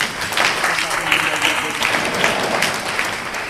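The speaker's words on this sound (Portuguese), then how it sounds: "Batam palmas para o profeta." A church audience in Winneba, Ghana, claps steadily for a preacher, dense and sustained applause filling the space with a faint murmur of voices underneath.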